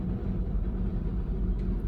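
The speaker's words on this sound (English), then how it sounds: "Wind is shaking the truck." High Texas winds buffet and shake a truck, heard from inside as a steady, heavy low rumble with no talk.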